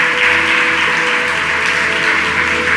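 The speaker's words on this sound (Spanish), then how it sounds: "Dale un aplauso fuerte a Jesús." A church congregation applauds, a loud, dense, continuous wash of clapping with a faint underlying hum and no distinct individual claps.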